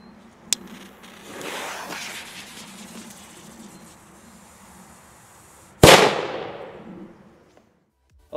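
A Thunder Cube firecracker goes off outdoors: a small early pop, a crackling fizz, then one sharp, very loud bang that rings and fades away, with another burst starting right at the end.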